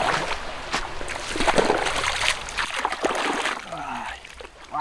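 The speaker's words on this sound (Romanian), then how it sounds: "stai să ne bălăcim un pic și în râu" Splashing in warm, clear river water after overnight rain in the countryside, with irregular sloshes and splatters up close and occasional voices mixed in.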